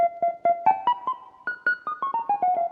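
Jazz amp guitar voice on a Yamaha PSR-S670 keyboard plays a quick run of plucked, clean notes with a steady picking rhythm, rising then falling in pitch, loud and close with no talking.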